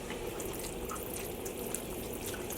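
Liquid dye stock solution at 1% strength squirted over yarn in a dye pot, a steady wet spattering hiss with faint dribbles, close and continuous throughout.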